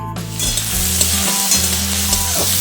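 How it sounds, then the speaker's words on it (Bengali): Potatoes and onions fry in hot oil in a home kitchen pan, giving a loud, steady sizzle broken by repeated scraping stirs, with no voices. "আলু পেঁয়াজটা ভেজে নিচ্ছি যতক্ষণ একটু লাল হচ্ছে"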